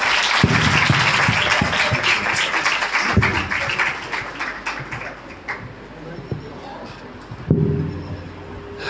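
Applause from a church congregation at the opening of a sewing center in a Baptist church in Harappa, Pakistan: loud, dense, sustained clapping with scattered sharper claps, easing slightly toward the end.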